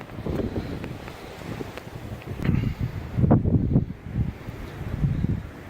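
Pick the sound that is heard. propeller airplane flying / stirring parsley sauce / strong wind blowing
strong wind blowing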